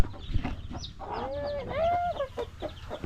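Hens cluck and squawk, an angry mother hen giving a rising, agitated call that swells and fades, over a noisy background of rustling and low rumble.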